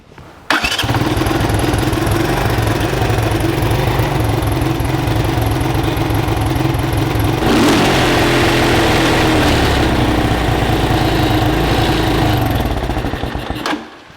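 A small engine on a 1985 Honda ATC200M three-wheeler runs steadily at idle for the whole stretch, close and loud, with a slight surge partway through and no talking; it backfires slightly through the exhaust.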